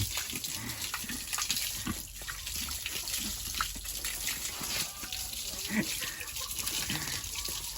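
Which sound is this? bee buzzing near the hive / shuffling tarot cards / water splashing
water splashing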